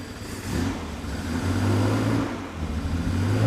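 A 1971 Triumph TR6 engine, running with its air filters removed, revs up and down in a series of throaty swells over a low rumble. It is recorded close and loud, with no voices.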